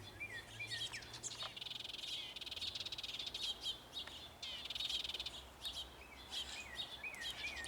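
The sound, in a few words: birds chirping in garden pine tree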